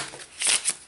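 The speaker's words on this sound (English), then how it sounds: "before I shuffle the green door in" Cards being shuffled during a game of Onirim, a brief close riffle with two quick crisp bursts of card flutter, heard alone.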